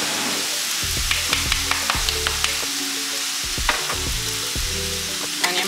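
Fried rice with garlic and soy sauce sizzles loudly in a pan, with repeated scraping and stirring strokes in an uneven rhythm over a constant hiss, and no voices.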